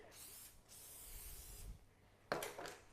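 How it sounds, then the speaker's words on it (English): A spray can hisses onto a dessert in two bursts, a long steady spray followed by a shorter, sharper one after a pause, close and clear with no talking. "Now what you do is you spray it again"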